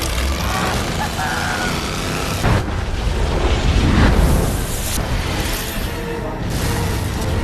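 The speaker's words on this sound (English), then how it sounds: "The massive explosion killed a large group of piranhas." A massive explosion from the film Piranha 3D erupts as a broad, rumbling boom that swells through the middle and then eases off, set in a dense, noisy movie soundtrack.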